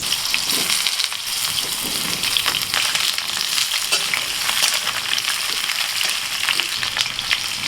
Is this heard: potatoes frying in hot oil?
yes